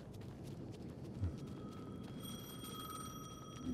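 Phone ringing in the video game Alan Wake 2, a steady electronic tone with faint harmonic lines entering partway through over a dark, rumbling game ambience, fairly quiet and continuous.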